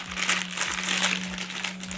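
A small plastic packet of art supplies crinkles and rustles as it is unwrapped by hand, close and continuous, over a low steady electrical hum with no talking.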